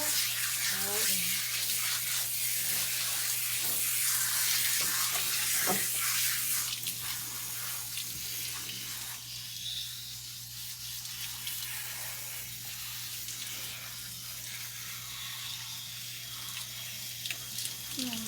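Water runs steadily from a tap during a dog's bath at a grooming session, a continuous hiss and splash with a low hum underneath and brief faint noises on top.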